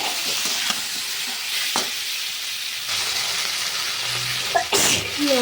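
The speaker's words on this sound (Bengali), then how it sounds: "এবার দিয়ে দেবো টমেটো" Fried potatoes in a pan as tomatoes go in, sizzling steadily with scraping stir strokes and a few clatters near the end.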